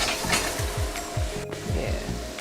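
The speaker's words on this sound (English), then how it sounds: "You toast your tofu in a saucepan." Tofu pieces sizzle and spit steadily in oil in a flat-bottomed saucepan, frying for a Chinese crispy braised tofu dish, with a few soft stirring or scraping strokes and no voices.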